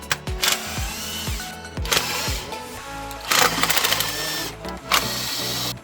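An 8mm bolt is ratcheted loose from the lower air manifold of a Chrysler 300, a rapid close clicking that comes in several quick bursts with short pauses between them.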